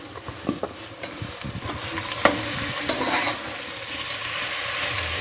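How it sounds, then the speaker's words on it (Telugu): Country chicken cooking in oil in a pan gives a close, steady sizzle, overlaid by scraping and clattering as it is stirred. "ఇప్పుడు చికెన్ అనేది దీంట్లో వేసుకుని మనం నూనెలో మంచిగా మగ్గనిచ్చుకోవాలండి"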